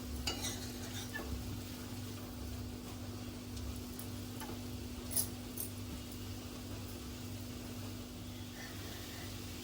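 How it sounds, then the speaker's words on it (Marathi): Finely chopped fenugreek leaves with coconut are sautéed in a pan, giving a soft, steady sizzle with light stirring scrapes and faint clinks over a low background hum. "अर्धा मिनिट परतूया आपण खोबरं घातले म्हणून"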